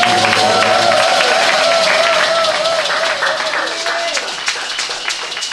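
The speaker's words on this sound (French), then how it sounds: "Est-ce que nous pouvons donner des acclamations au Seigneur?" A church congregation claps and cheers in praise, a loud, sustained burst of applause with voices mixed in that gradually thins toward the end.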